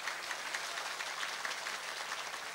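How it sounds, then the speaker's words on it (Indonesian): Faint, distant applause from a crowd at an Islamic public sermon gathering, clapping for the police officers who secured the event, thin and steady throughout. "Tepuk tangan untuk Pak Polisi."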